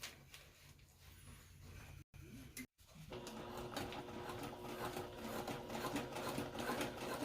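A sewing machine stitches tie-out loops onto the corner of a DIY single-wall tent fly, running in steady bursts with a brief pause around two seconds, then a louder, continuous run close by.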